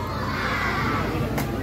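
A crowd of excited children shouts and cheers for the approaching president, a brief burst of high, overlapping voices over a steady crowd din.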